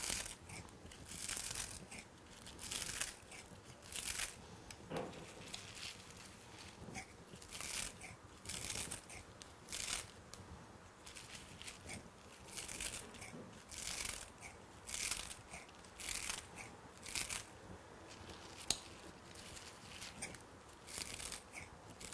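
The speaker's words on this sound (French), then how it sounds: "Donc je coupe des tout petits morceaux." Kitchen scissors snip fresh chives into tiny pieces for a goat cheese tart, a long run of quick, crisp, evenly spaced cuts, close and fairly quiet, with no voice.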